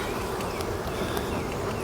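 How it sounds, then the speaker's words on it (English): Honey bees buzz inside an open beehive in spring, a dense, steady droning hum of many insects heard close up with no talking. "You can start to hear the bees down in there."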